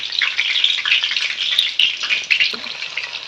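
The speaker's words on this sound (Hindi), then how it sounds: "अब इसको हम गर्म ऑयल में फ्राई करेंगे हल्का हल्का।" Cauliflower sizzles and crackles steadily in hot oil, a loud, close, continuous frying hiss with occasional stirring, no talk.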